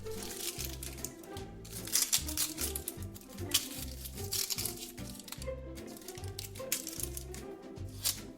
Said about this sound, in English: That was the sound of somebody peeling onions.